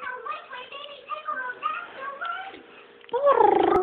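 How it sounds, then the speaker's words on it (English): A pet dog whimpers and whines in a series of soft, high, wavering cries indoors, ending in a louder, sharper yelp-like whine. "This is my dog, Rufus."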